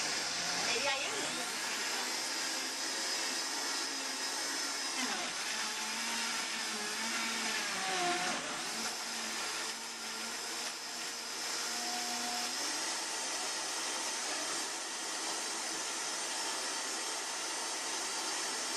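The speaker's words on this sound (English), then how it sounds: "You'll see when all the bits of greens are getting blended up and stuff" A Vitamix blender blending a green smoothie of greens: a loud, steady motor whine that shifts in pitch as the contents churn, with voices faintly audible beneath it.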